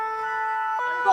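A brief electronic siren tone with steady harmonic pitches, sounding somewhat distant, with a faint wavering at the end.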